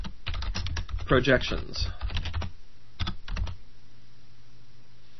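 Computer keyboard typing while entering text into a shape in Microsoft Excel: a quick run of close, crisp key clicks, with a brief spoken word in the middle and a few more taps after it.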